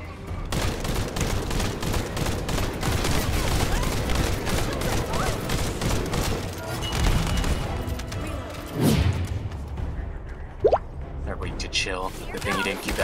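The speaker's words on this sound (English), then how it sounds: "I'm getting shot from behind" Enemy gunfire in the shooter game The First Descendant, rapid bursts of automatic shots crackling over a busy battle mix, with a player talking throughout.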